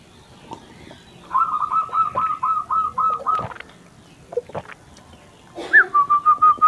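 A caged zebra dove (perkutut) coos in repeated rhythmic bursts, a run of about eight even whistled notes, a pause with faint knocks, then another quick series, close and alone with no voices.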